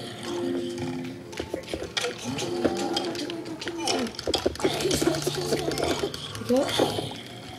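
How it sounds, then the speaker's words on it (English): Cows mooing in the Minecraft video game, a few short blocky moos scattered through busy game sounds while a young voice talks over them. "I'm killing the cows from the cow invasion."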